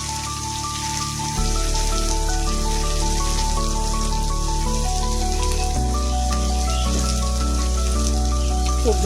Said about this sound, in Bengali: তো জল এখন দিয়ে দিচ্ছি।